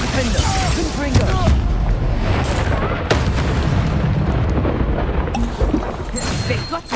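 A Confringo spell goes off in the Hogwarts Legacy video game with loud booming blasts and sharp impacts amid continuous battle noise, while voices call out over the din.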